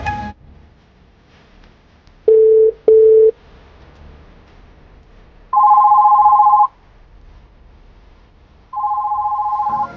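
A mobile phone ringtone rings in short repeated tonal bursts, two quick pulses followed by two longer sustained rings, loud and close with quiet gaps between them.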